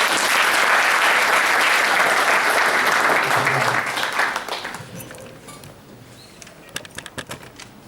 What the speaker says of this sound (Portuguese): eu peço uma grande salva de palmas para todos que estão aqui presentes